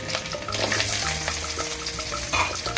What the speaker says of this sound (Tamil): வெங்காயமும் பூண்டும் நல்லா பொன்னிறமாக வதங்குற வரைக்கும் வெயிட் பண்ணணும்